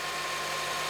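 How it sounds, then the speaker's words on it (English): A Honda Element engine with a new belt and tensioner runs steadily, a dense, constant broadband hum close by with no talking. "New belt's running beautifully. Tensioner's running beautifully."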